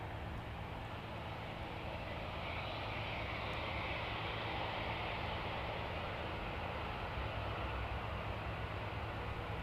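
A Boeing 757 arriving at East Midlands airport, a distant steady jet engine roar and rumble, broad and unbroken, with no voices over it.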